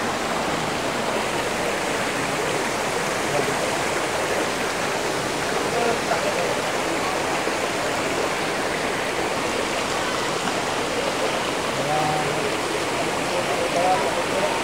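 Water at Imugan Falls rushes and splashes continuously, a steady broad hiss of stream and falls close by, with faint voices partly buried beneath it.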